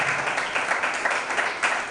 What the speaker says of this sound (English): So now we're going to clap for Mr.